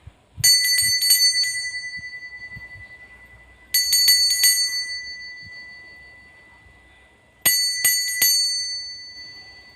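A bright bell rings in three separate bursts of rapid repeated dings, each fading out before the next, clear and close with no talk.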